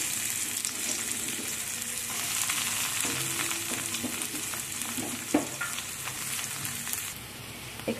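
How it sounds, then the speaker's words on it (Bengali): Sliced onion frying in hot oil tempered with cumin and chilli for a curry, giving a steady, close sizzle with occasional stirring clatter throughout and no talk. "এখানে ফোড়নে আমি জিরা আর লঙ্কা দিয়ে দিয়েছি, দিয়ে পেঁয়াজটা দিয়ে দিলাম"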